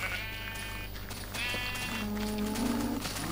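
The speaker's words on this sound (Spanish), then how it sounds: "¡Mira, una oveja!" Sheep bleat in a video game, several wavering calls in a row, fairly close and loud over steady background noise.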